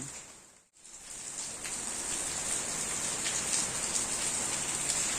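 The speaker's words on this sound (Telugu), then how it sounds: "వర్షం పడుతుంది, ఫుల్ వర్షం పడుతుంది, స్టార్ట్ అయింది." Heavy rain pours down in a dense, steady hiss, close and loud, after a brief dip at the start.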